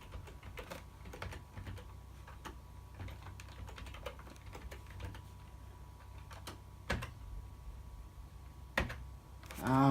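Keys on a computer keyboard are tapped quietly in an irregular run of clicks while a password is entered, close up and alone, ending in a brief louder noise.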